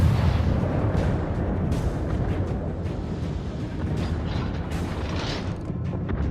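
Cruiser guns firing in World of Warships, a British Tier I cruiser Black Swan at sea, heard as a steady rumbling barrage of booms with several sharper reports near the end, loud and continuous with no voices.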